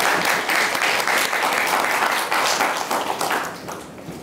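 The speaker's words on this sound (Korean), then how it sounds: "큰 박수입니다." Loud, sustained applause from a forum audience, dense clapping throughout that begins to thin out toward the end.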